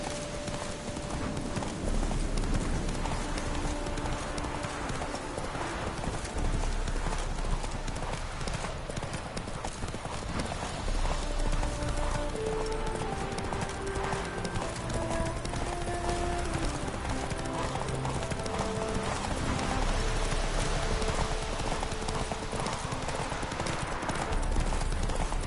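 Roach, the horse in The Witcher 3, gallops with rapid, continuous hoofbeats, loud and close, layered over steady game music and ambience with a faint whinny.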